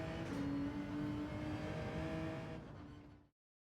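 A Genesis X GR3 race car in Gran Turismo 7, its engine holding a steady high whining drone that fades and cuts off abruptly, with no voices.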